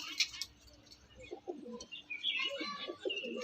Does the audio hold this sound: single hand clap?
no